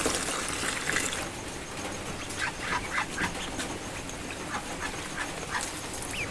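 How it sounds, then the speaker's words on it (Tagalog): Heavy rain falling at night on a farm with ducks, a steady, dense hiss filling the scene, with faint animal calls breaking through now and then. "Tapos ang lakas pa ng ulan."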